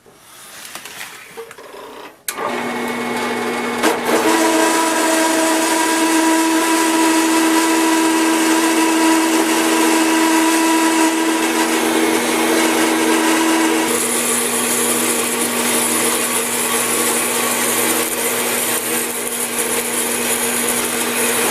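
A power saw blade cuts into a workpiece, starting abruptly and holding a loud, steady whining drone for about twenty seconds, with the pitch shifting partway through as the cut continues.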